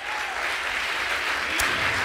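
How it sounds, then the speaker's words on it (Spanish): A church congregation breaks into steady applause during a sermon, a brief dense wash of clapping with one sharper clap near the end. "Si tú quieres darle el aplauso al Señor"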